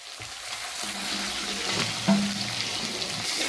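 Onions and green chillies, with mustard seeds, sizzle in hot oil in a clay pot, a steady close crackling fry with a soft clink of a utensil partway through and no talking.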